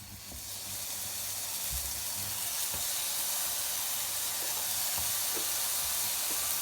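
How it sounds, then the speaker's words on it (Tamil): Slices of brinjal for a Tamil-style roast fry in hot oil in a pan, giving a steady, close sizzling hiss that stays even and unbroken, with no voices. "இப்போ எண்ணெய் காஞ்சிச்சு, அதனால் நம்ம ஒன்று ப்ளேஸ் பண்ணலாம்."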